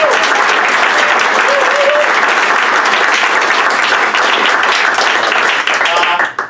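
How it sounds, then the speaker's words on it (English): A crowd at a startup founder pitch graduation event applauds loudly and steadily for several seconds, dense clapping that tapers off abruptly at the end. "Big round of applause."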